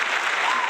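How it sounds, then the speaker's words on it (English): Short burst of steady hand clapping from a small group on a podcast set, fairly close and even, with a hint of voice in the background. "You got to clap for that, Kiki."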